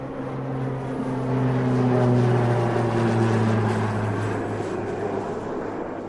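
The steady propeller drone of a Mooney M20J light plane in flight inside a flight simulator game, a constant engine hum that swells slightly and holds level throughout, with no voices.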